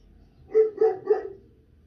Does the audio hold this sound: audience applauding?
no